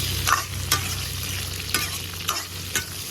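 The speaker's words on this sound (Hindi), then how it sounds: "चला देंगे" Fried cauliflower 65 with squeezed lemon is stirred in a frying pan, a loud, close sizzle broken by about five scraping strokes at a fairly even pace.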